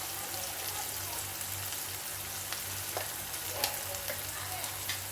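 Onion and garlic sauté in a pan for a cluster bean thokku as cumin seeds go in, a steady close sizzle with a few soft stirring clicks and no talking.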